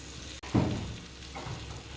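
Kasuri methi (dried fenugreek leaves) hits hot butter in a pan over low to medium heat, giving a short, fairly soft burst of sizzling that fades quickly, with no talk.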